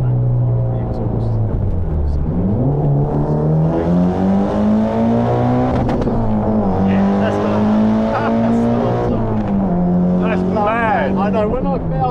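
Sports car exhaust, from a Toyota Celica GT4 or Mitsubishi TME, revving hard and climbing through several gears, each upshift dropping the pitch before it rises again, loud and close throughout.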